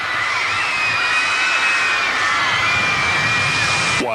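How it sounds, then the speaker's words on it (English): A large crowd of fans screams continuously to greet Boy George and Culture Club on their arrival in Australia, a dense, loud wall of high-pitched shrieking and cheering with a sharp bang at the very end. "Screaming fans greeted the boy in scenes reminiscent of the early 60s visit by the Beatles"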